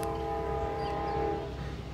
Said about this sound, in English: Here's that train. It's probably NS66Z going through. Loaded crude oil train.